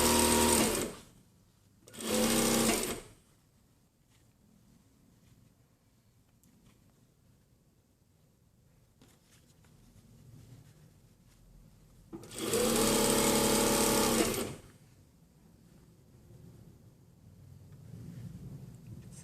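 A sewing machine stitching a jacket sleeve, with two short bursts of rapid mechanical chatter followed after a quiet gap by a longer run of stitching, close and clear.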